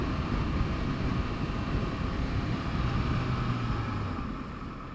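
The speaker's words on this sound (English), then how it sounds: "Shall we try and do an emergency stop?" A 2014 Honda CBR650F motorcycle performing an emergency stop, its engine rumble and road noise loud and close, then easing and dropping off as the bike slows toward the end.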